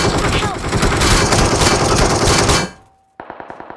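Rapid automatic gunfire in a shooting video game, a loud, dense burst of shots for over two seconds that cuts to near silence, then a faster, evenly spaced string of sharp shots.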